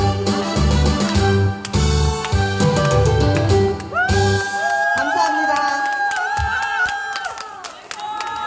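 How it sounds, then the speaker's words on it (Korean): Outdoor crowd clapping and cheering at a traditional market stage event, bursts of applause mixed with music and a talking voice, loud and close throughout. "여러분 큰 박수 부탁드립니다"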